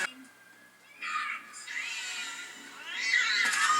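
Cat meowing and yowling in the stop-motion film Coraline, drawn-out cries rising and falling over a quiet film soundtrack, with a person talking faintly.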